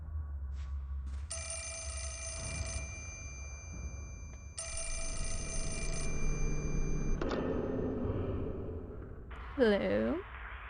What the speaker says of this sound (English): A phone call. For me?